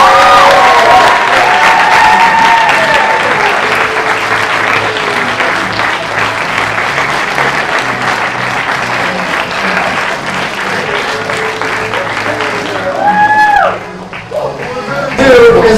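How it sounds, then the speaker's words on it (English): A wellness workshop audience applauds its speakers, with loud sustained clapping and scattered cheers and whoops lasting many seconds before tapering off, a few voices calling out near the end. "give our speakers a round of applause."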